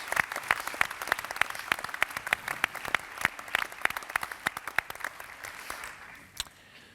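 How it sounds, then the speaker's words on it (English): Steady applause from a theatre audience in Paris, many hands clapping briskly and densely for several seconds before it thins out and fades near the end, with no talking over it. "we owe you in Madrid a round of applause from the Théâtre Bleu here"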